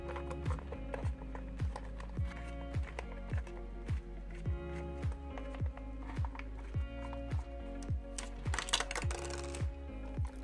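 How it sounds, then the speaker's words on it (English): Small screws are backed out of the internal frame of a Sony SRS-XB33 speaker during a teardown, giving a faint, steady run of close clicks and ticks in a quick regular rhythm, with no talking. "In order to do this, we will be removing these 6 screws."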